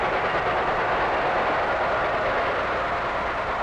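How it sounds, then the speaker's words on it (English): The Tokyo Express passing: a continuous, even rumble of rolling wagons that holds steady for a few seconds with no voices. "the whistle of the Tokyo Express."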